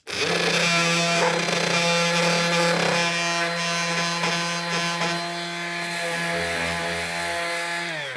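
Cordless battery-powered sander working a wooden surface close to its edges, a steady loud whirring motor with continuous abrasive rubbing across the whole stretch and no voices.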